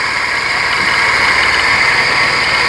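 A Mercedes 190E engine with a blown head gasket idles steadily with a smooth, even low rumble and a faint high whine from the water pump, close by and continuous throughout.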